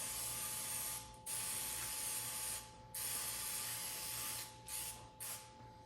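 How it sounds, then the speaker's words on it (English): Close hissing bursts from an aerosol oil spray can onto pizza dough balls, four or five presses of about a second each with short gaps between. "And now you spray the tops of the dough ball."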